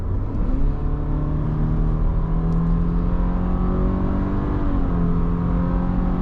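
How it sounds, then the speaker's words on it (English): A 2024 Subaru Impreza RS engine in sport mode, rated 182 horsepower, revs steadily with a continuous low hum, heard close up from inside the cabin. "When this engine does rev out"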